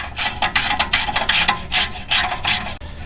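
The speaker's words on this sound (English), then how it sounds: "now he's able to get on there easier with the ratchet, and the ratcheting is going to go much faster" A ratchet loosens an exhaust header clamp on a Toyota 3RZ engine, giving close, loud rasping clicks in a steady rhythm of about six quick strokes.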